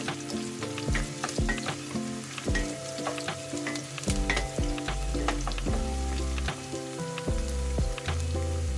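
Squid with onion cooks in a pan for Filipino adobong pusit, a loud, steady sizzle of frying with repeated clatter and scraping as it is stirred, and no one talking.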